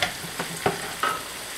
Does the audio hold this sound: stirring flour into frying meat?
yes